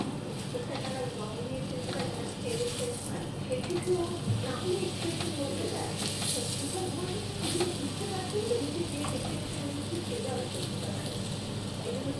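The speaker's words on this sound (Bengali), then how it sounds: "সাদা তেল দিয়ে আমি এটাকে এপিট ওপিট করে তেলের মধ্যে ভেজে নেব" Chhatu paratha sizzles in white oil in a pan, a continuous crackling fry running under a person talking, moderately loud and close.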